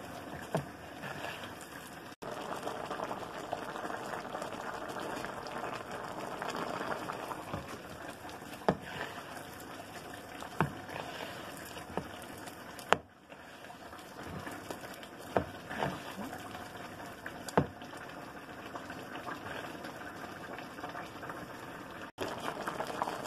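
A pot of pumpkin bubbling steadily at a boil, a constant soft rumbling hiss with occasional pops and clicks, no voices.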